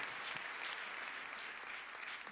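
A church congregation applauding, a dense, steady wash of many hands clapping together at moderate distance, with no pauses.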